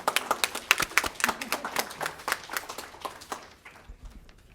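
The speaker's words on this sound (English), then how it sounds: "Let's give her a round of applause." A small group claps for a few seconds, scattered individual claps that thin out and fade to silence.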